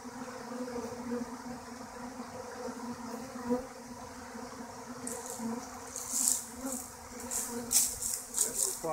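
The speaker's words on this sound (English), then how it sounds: "there's quite wider bees in both pots, they must be a little confused." Swarm of bees buzzing around a flower pot outdoors, a continuous droning hum with individual bees passing close and louder near the end, no talking.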